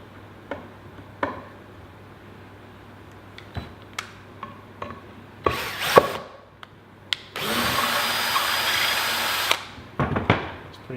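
A power drill drives a screw through pre-drilled wood for a simple coat rack, with scattered clicks and knocks, then a short whir and a sustained loud burst of drilling near the end, close up.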